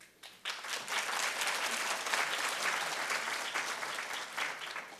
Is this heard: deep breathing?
no